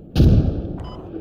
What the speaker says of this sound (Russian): Минометы недалеко стреляют